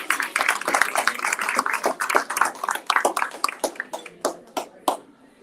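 An audience at a college chancellor appreciation day gives a round of applause, with dense, loud clapping that thins into scattered individual claps toward the end.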